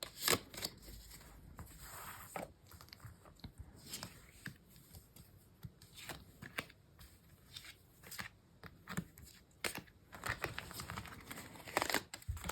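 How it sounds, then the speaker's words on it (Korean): Tarot cards are shuffled and drawn by hand, producing soft papery riffles, flicks and crinkly slides in irregular bursts, close and quiet throughout. "그래서 상대방과 좀 어떤 인연일까 먼저 카드를 뽑아보도록 하겠습니다."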